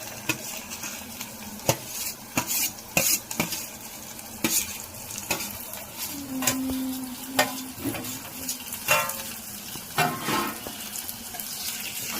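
Boiled cluster beans stirred into curry in a pan, with sharp scrapes and clanks of the spoon at irregular intervals over a soft, wet bubbling sizzle.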